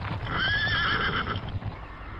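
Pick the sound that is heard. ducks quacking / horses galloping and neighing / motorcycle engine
horses galloping and neighing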